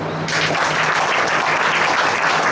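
Sunday prayer congregation breaking into loud applause after a short hush, a thick, sustained burst of many hands clapping with no talk over it.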